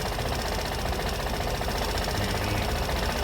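A Vespa Matic S 125 automatic scooter engine idles steadily after an oil change, a close, even mechanical hum with a fine rapid ticking and no talk.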